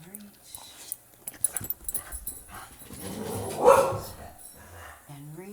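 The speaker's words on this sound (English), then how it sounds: "Oh, round 2 with barking." A dog barks indoors in a burst of sharp, irregular yips and barks, one louder bark standing out near the end, while someone talks over it during a home workout.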